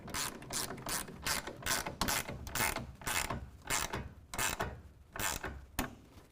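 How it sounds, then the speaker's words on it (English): Rapid ratcheting clicks from a 1/2 inch ratcheting wrench tightening a tonneau cover clamp on a truck bed rail, a steady string of crisp ticks in quick bursts, close and fairly quiet. "we can go ahead and tighten that down with a 1/2 inch ratcheting wrench"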